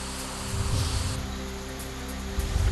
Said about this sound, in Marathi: नंदुरबारच्या खांडबारा परिसरामध्ये जोरदार पावसाची हजेरी